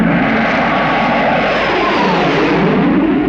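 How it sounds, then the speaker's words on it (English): A helicopter roars overhead, a loud, dense engine drone that swells and holds steady for a few seconds with no voices. "The Spectrum helicopter is overflying the motorcade."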